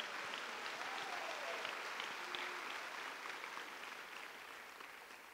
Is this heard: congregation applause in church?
yes